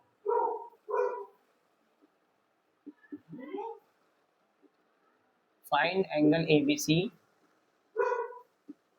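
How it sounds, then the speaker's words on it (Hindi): A dog barks from an upstairs room in short, sharp bursts, with the loudest cluster midway through. Someone speaking Hindi talks over and between the barks. "मैं ऊपर एक कुत्ता भौंक रहा है"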